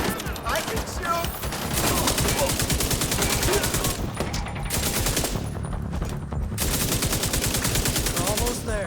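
Dense, continuous automatic gunfire in the video game The Division 2, with rapid overlapping shots and chaotic battle noise, loud and close throughout.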